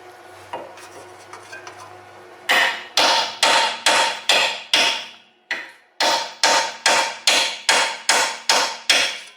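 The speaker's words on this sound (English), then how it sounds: "I'll keep pounding." A hammer pounding on a front wheel bearing during a 2002 Honda Civic repair: about fourteen loud, ringing metallic blows in a steady rhythm, each decaying quickly, after a quieter stretch of faint clinks.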